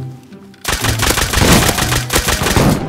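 Gunfire in the Rust video game: after a brief quiet moment, loud close rapid shots crackle in a dense automatic stream, with several weapons firing at once for a few seconds.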